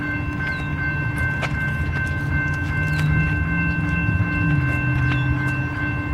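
A freight train rumbles through a railroad crossing in Girard, Illinois, a loud, close, steady roar of engines and rolling wagons with a sustained tonal hum running throughout.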